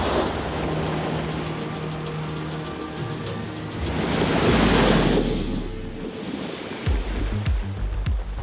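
A Tesla Cybertruck in off-road mode wades through deep water, with steady rushing splash and surge that swells louder midway, a low engine-like hum beneath and sharp sloshing bursts near the end.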